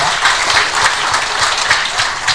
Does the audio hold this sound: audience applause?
yes